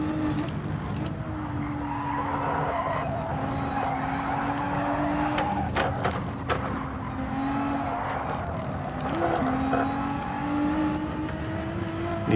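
A race car laps a track in Gran Turismo with a steady high engine drone, shifting pitch through gear changes and corners, with intermittent tire skids and squeals.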